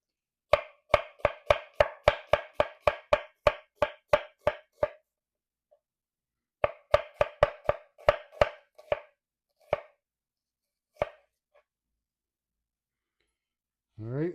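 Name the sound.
knife slicing onion thinly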